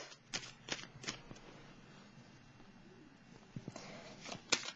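Small tarot cards are shuffled close up: soft riffles and flicks in short bursts, with a quieter rustling stretch in between, faint and with no one talking.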